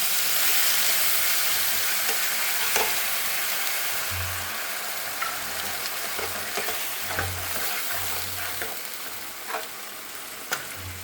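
Ginger, cumin, chili and onion paste frying in hot oil, a steady loud sizzle with occasional stirring clinks and spatters, no talk.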